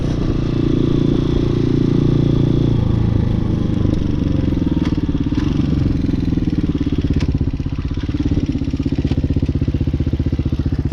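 A Hawk 250cc motorcycle being ridden, its engine a loud, close, continuous rumble with a steady rapid pulse and some rattly clatter, shifting slightly in pitch as it goes along.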